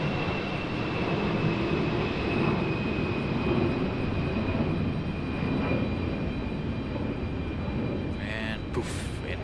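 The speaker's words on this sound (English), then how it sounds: "Beautiful A319 departure" An Airbus A319 climbs away from Raleigh Durham airport, a steady broad jet rumble at moderate distance, with brief sounds near the end.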